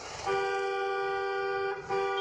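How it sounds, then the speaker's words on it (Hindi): A car horn blares in one long sustained honk, briefly broken near the end before sounding again, loud and close. "long horn"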